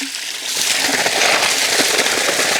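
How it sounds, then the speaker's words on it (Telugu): Water from a borewell gushes steadily into a farm field plot, a loud broad rushing and splashing that builds within the first half second and then holds constant. "చూద్దాం నీళ్ళు వస్తున్నాయి లేదా, ఎలా వస్తున్నాయో."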